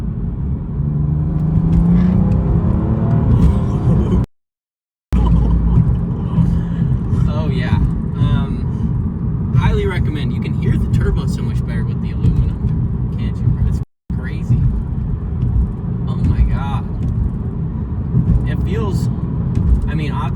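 A BMW F30 340i with power upgrades pulls hard through the gears on the road, a low, constant engine rumble heard from inside the car under frequent talk from the occupants.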